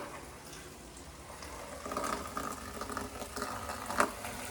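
Quiet, steady fizzing and crackling of cola carbonation bubbles popping close by, with tiny irregular snaps; no talking.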